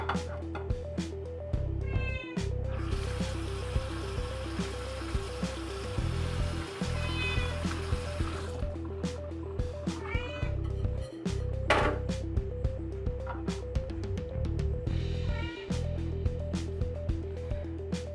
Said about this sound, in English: my cat thinks she's getting food